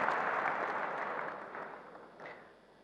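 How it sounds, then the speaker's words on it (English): Applause from the crowd at a smartphone software launch event, a dense burst of clapping that is loud at first and gradually thins out over about three seconds. "I think that deserves a bigger clap,"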